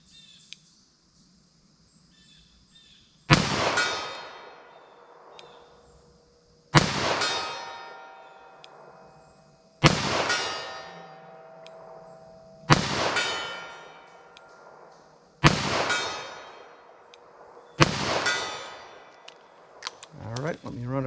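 A Smith & Wesson 686 revolver fires .38 Special rounds at steel targets outdoors: six loud, well-spaced shots about three seconds apart, each followed by a ringing metallic clang and a decaying echo.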